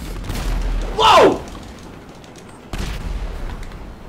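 Fireworks explode in the GTA 5 video game: a loud burst with a sharp whistling sweep early on, then a second blast a couple of seconds later, against a game soundtrack.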